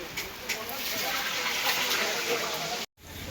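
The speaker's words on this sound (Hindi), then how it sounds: "नल में पानी आओ" Water running from a tap at a wedding function, a steady broadband gushing stream that cuts off abruptly near the end.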